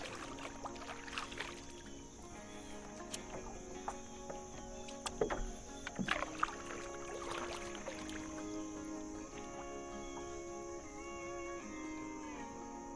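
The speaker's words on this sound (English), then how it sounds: "Let's keep paddling." A boat paddled along Pickens Creek, with soft intermittent paddle strokes and water splashes over a steady outdoor background of insects, no talking.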